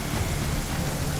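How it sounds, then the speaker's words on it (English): A thunderstorm rolls through with steady dense rain and low thunder rumbling underneath, wind in the air, a continuous wash of noise with no speech. "There's lightning and thunder in the air."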